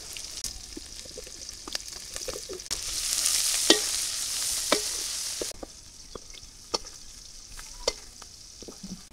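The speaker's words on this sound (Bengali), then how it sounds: "দিয়ে দিলাম পেঁয়াজ আর রসুন কুচি, কাঁচামরিচ ফালি করা।" Chopped onion, garlic and sliced green chilies fry in a pan in a village kitchen, a hissing sizzle that swells midway, broken by many crisp spatula taps and scrapes.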